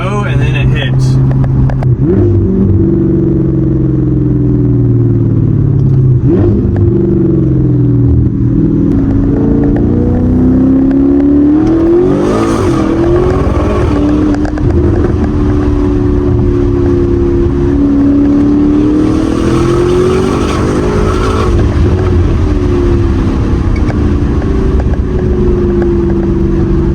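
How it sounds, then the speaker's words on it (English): A 600HP Audi S6 accelerates hard, its engine and intake droning loud and close in a steady rising and falling pitch through repeated pulls, with brief voice sounds over it. "Hopefully you guys can hear the intake too, because it sounds great."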